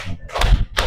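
A class of students claps in unison on a counted cue, short loud bursts of group clapping close by, uneven in spacing, with no voices over them.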